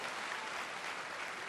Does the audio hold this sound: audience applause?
yes